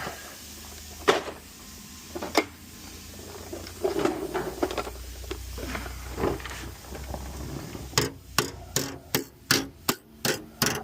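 Metal clanks sound sporadically during welding work on a rocker, then a series of about eight sharp hammer blows ring out in a steady rhythm near the end, close and fairly loud.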